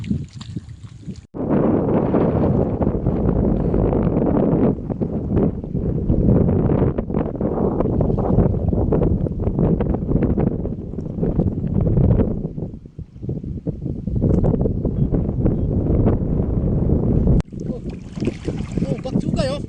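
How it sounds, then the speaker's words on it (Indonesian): Ferry on the open sea, with steady loud engine rumble and water rush buffeted by wind across the microphone, continuous throughout with brief dips; a voice speaks over it. "dan ini kapal ferinya ini"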